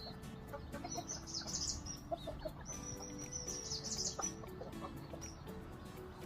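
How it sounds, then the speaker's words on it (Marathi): Backyard chickens dust bathing in dry ash cluck softly and chirp repeatedly, close and moderately loud over a rustling outdoor background, with no talking. "हा कसा ब्रीडर्स आणि आपली जी कोंबडी आहे ती मजा घेत आहे."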